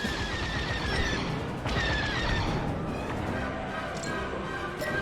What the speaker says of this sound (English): All turrets open fire on those ships.